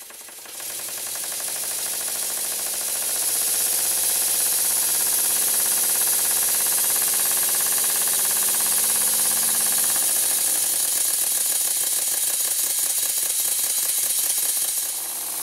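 Stuart Double 10 model steam engine running on compressed air, a steady rapid mechanical chuffing and clatter with a strong airy hiss, close and loud, building up over the first few seconds and running continuously.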